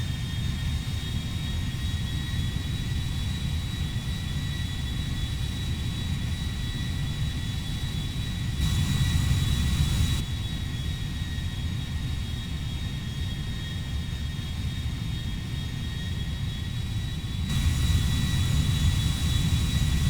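A Boeing 777-300ER jet in GTA V takes off, a steady loud roar of jet engines with a persistent high whine, growing louder in two surges as thrust builds.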